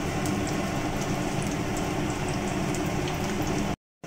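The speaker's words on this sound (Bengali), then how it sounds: "তো এখানে চলছে নাগেটস ভাজা," Chicken nuggets deep-fry in hot oil, a dense, steady bubbling hiss with fine crackles heard up close and without any voices, cutting out sharply just before the end.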